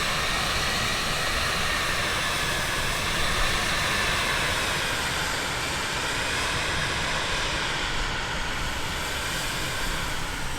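Cirrus Vision Jet personal jet taxiing toward runway 25 in a flight simulator, a steady, loud engine whine and broadband rumble holding evenly throughout with no break, heard alone without talk.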